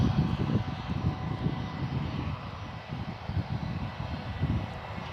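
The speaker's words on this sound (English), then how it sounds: "this is our last departure. Jetstar A320 off to Newcastle" A Jetstar A320 departing Gold Coast Airport for Newcastle, its engines a loud, sustained rumbling roar heard from close by near the fence line, steady across the whole stretch.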